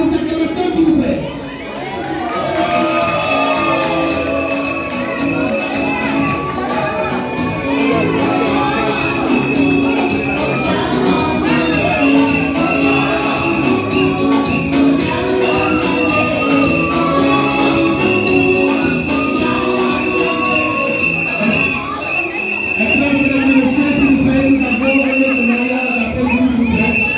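Guests at a civil wedding in a hall cheer and applaud loudly and steadily, with shouts, whistles and chatter mixed into the dense crowd noise throughout.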